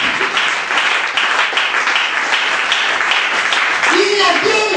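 A church congregation applauds, a steady dense wash of clapping that fills the space and continues throughout, with a voice rising over it near the end.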